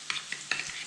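Greek yogurt being stirred into artichoke cream in a bowl, with a few short wet scraping strokes at an uneven rhythm, close and fairly quiet, no voices.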